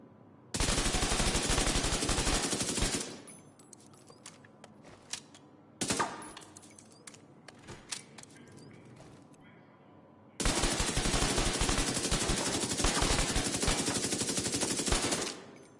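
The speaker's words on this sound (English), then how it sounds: "I don't know what variant of fucking AUG this is, but it's really strange that it's using 9mm" An AUG rifle chambered in 9mm fires in The Division 2 as loud, sustained automatic bursts: a long burst, a short one, then another long volley, separated by quieter stretches of game ambience.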